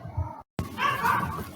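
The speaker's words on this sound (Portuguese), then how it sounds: "meu cachorro ainda tá latindo" A pet dog barks nearby, giving a short woof, a brief gap, then a longer yelping bark, all loud and close.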